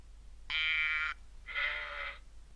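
Two distinct sheep bleats, one after another, fairly close and clear against a quiet background.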